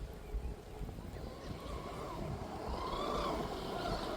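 Proboat Blackjack 42 radio-controlled boat running at full throttle on open water, a steady distant motor whine over broadband wind and water noise that swells slightly toward the end.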